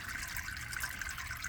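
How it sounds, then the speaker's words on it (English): Transmission fluid from a Cadillac Allante drips steadily out of the loosened transmission pan, a soft continuous trickle close by with no voices. "So I'm going to let that drip till it just about stops."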